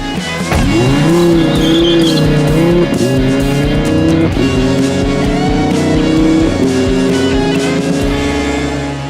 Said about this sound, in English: This is, of course, the Huracan, which means it's the baby Lambo with the V10 engine.